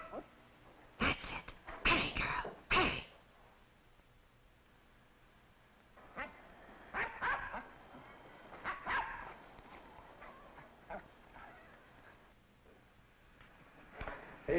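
A dog barks at a cat up a tree outdoors, several sharp barks clustered early then scattered yips and whimpers at moderate distance, with faint background noise between bursts.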